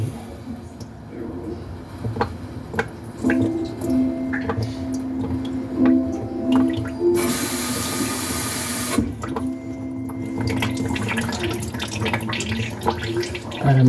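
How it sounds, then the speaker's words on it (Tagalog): Running tap water from an opened faucet pours into a lavatory sink as a steady broadband hiss lasting about two seconds mid-clip, with drips and handling noises around it and talk nearby. "para malinis, binuksan natin yung gripo"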